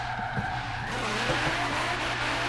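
Nissan GT-R in Forza Horizon 3, tuned to 1200 horsepower, drifting with a loud sustained tire skid and squeal over a steady engine drone, heard close up.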